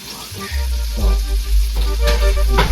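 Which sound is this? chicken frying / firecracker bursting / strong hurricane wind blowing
chicken frying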